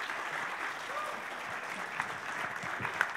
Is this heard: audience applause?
yes